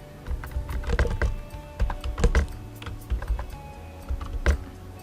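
Code is typed on a computer keyboard in a quiet room, with close, irregular bursts of clacking keystrokes and brief pauses between words.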